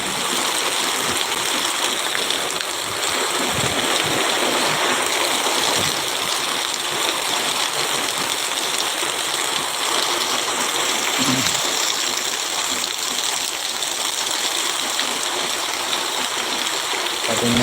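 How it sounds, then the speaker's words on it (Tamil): Steady, continuous rush of water flowing in a stream, a constant broad wash that stays loud and unchanging throughout. "பக்கத்தில் அப்படியே ஃபுல்லாக தண்ணி ஓடிக்கிட்டு"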